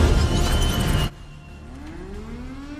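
A tornado siren winds up with a slowly rising wail after a loud, noisy burst, the tone climbing steadily in pitch and carrying from a distance.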